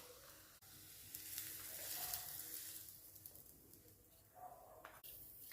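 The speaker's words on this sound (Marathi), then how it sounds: "हा तडका पोह्यांवर घालून घेऊयात आपण" Hot onion and peanut tempering poured over poha crackles into a soft, steady sizzle, quiet and close, with a brief rise in hiss midway and no talking.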